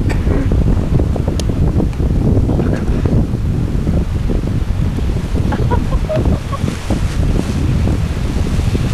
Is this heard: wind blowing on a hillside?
yes